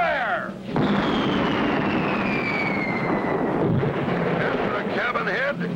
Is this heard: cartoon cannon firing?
yes